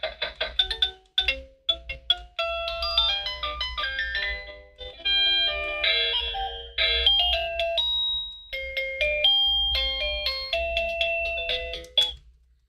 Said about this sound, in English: you guys are able to hear some of the effects that are available with this doorbell kit